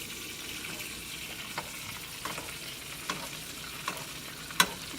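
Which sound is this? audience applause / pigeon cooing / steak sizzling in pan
steak sizzling in pan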